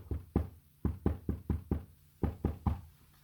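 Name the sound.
knocking 11 times in a 3-5-3 pattern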